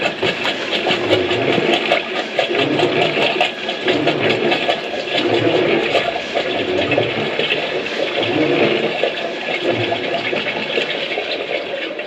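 Sewage water rushes steadily through a drain pipe near a manhole and gully outside a care home, a continuous, surging watery roar that swells and eases in waves for the whole stretch with no voices.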